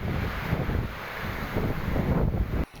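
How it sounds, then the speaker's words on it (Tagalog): Strong typhoon wind from Typhoon Ulysses buffeting a microphone outdoors, a loud continuous roaring rush that swells and eases before cutting off near the end, with no voices. "Nananampal na hangin ang sumalubong sa tatlong ito na inabutan ng bagyong Ulysses"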